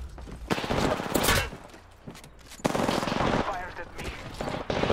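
Automatic gunfire in Apex Legends, loud rattling bursts in two main clusters separated by a quieter gap, with players' voices faintly mixed in.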